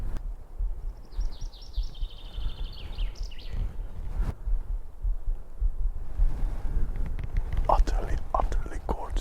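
A finch sings faintly in the background outdoors in southern Finland, a thin run of high chirping notes early on over a steady wind-like hiss and low rumble, with some breathy sounds later.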